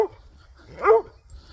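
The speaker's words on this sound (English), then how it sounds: "That's dog barking." A single dog bark rings out at a distance from the house, one short, clear yelp rising and falling over a quiet low background, with a faint whimper-like tail at the start.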